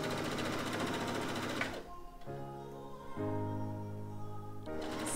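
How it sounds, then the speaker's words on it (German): A sewing machine stitches a long curved seam on a mini dress, its steady motor whir running loud and close, pausing briefly near the middle before resuming, with no voices. "Nähe dann hier in einem möglichst geraden Bogen, einmal bis zum Ende."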